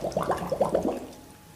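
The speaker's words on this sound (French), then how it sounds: "On va la remplir par de l'eau" Water gurgles and glugs in quick bursts as a 1.5-litre bottle is filled, close and loud for about a second before fading away.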